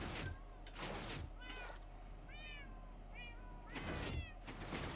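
Many cats meowing in Minecraft, several overlapping mews rising and falling in quick succession, moderately loud over a constant background hum, with a few broadband swishing bursts between them.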